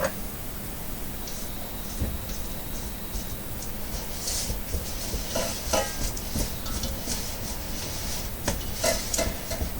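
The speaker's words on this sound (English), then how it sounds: "We're going to give this a quick scrape." Cake batter for vasilopita scraped around a bowl, a run of soft rubbing and scraping strokes with light knocks, close and moderately quiet, no talking.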